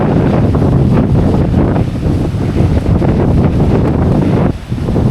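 Strong wind buffets the microphone continuously on a high vantage point above the Palma de Mallorca harbour and seafront. The rumble is loud and close and steady for the whole stretch, with one brief lull near the end and no voices.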